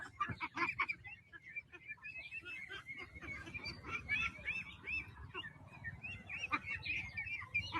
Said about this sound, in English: Lots and lots of ducks.